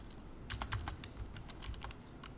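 Quiet keystrokes as code is typed on a computer keyboard, a short irregular run of light taps that clusters in the middle and thins out toward the end, with no voices.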